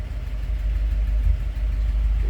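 A 1957 Ford Ranchero's 312 V8 with a Thunderbird powertrain idles steadily close by, its deep low rumble even and continuous with no voices over it.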